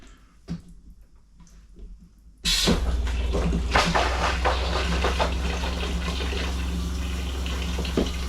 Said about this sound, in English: That's some serious water pressure here.